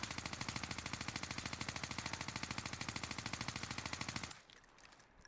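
A long burst of automatic gunfire in a video game recoil test, rapid and evenly spaced, steady and close, then it cuts off abruptly into quiet.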